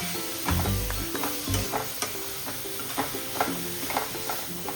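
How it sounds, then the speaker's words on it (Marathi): Bombay duck fish tipped into a pan of Malvani masala on low gas, sizzling steadily with a few thuds and repeated scraping stirs, close and continuous without talk. "आता आपण बोंबील घेऊन घेतलं त्याच्यामध्ये टाकून घेऊया."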